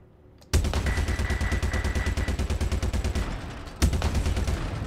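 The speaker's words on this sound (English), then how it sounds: "Listen to those guns." Rapid ship-mounted guns in the space combat game Star Citizen fire in a dense, steady machine-gun rhythm, loud and close, pausing briefly near the end before another burst resumes.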